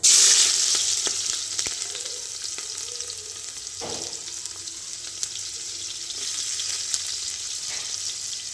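Cumin seeds frying in hot oil at the start of cooking khichdi give a steady, close sizzle and crackle, strongest at first and then settling into a constant hiss with scattered pops, without talk.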